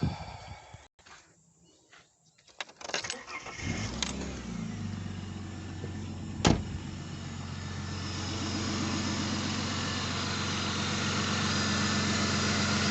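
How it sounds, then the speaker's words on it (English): An AU Ford Falcon engine cranks and fires after a few seconds of quiet handling noise, then settles into a steady, smooth idle fitted with a new serpentine belt, with no squeal, a single sharp click partway through. "Let's start the car up."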